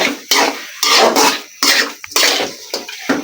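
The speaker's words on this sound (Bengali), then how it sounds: "এবার আচারটাকে ভালো করে মিশিয়ে" Homemade crab pickle stirred with vinegar and sugar in a pot, giving loud bursts of wet scraping and clinking from a utensil against metal, in uneven strokes with short pauses between them.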